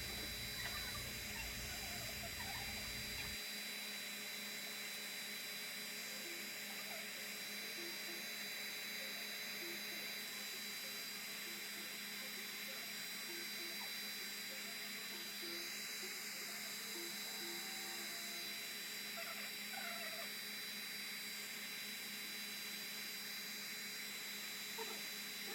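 Heat gun warming the label adhesive on a Game Boy Advance Pokemon FireRed cartridge, a steady close, loud whooshing blower hiss with a high whine that runs unbroken throughout, no talk over it.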